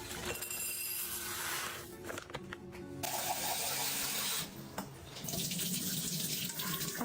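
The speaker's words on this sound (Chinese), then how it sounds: "炖锅里面先加些水。" Tap water pours into a slow cooker pot in a steady, rushing stream that twice briefly drops away before resuming, close by and with no talking.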